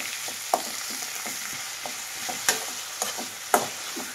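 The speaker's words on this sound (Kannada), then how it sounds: "ಸಾಫ್ಟ್ ಆಗೋವರೆಗೂ ಫ್ರೈ ಮಾಡಬೇಕು." Tomatoes and coriander leaves frying in a pan for village-style tomato khara, a continuous sizzle broken by several sharp spatula scrapes and taps at irregular intervals, close and alone.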